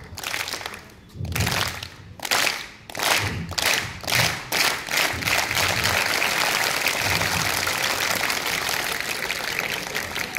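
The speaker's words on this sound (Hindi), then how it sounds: "यस, सभी एक साथ ट्रेन क्लैप गो।" A group at a school scouts' campfire claps together in a rhythmic train clap, starting in spaced bursts of claps, then speeding up into a steady, continuous patter of many hands.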